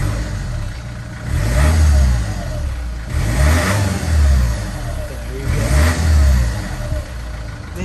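An 18-year-old Mercedes Vito van's 2.2 litre diesel engine revving close by, three rising revs over a rough idle, each swelling and falling back, with no talking.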